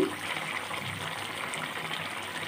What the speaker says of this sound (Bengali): আমি এতে পানি দিয়ে দিব 2 কাপ।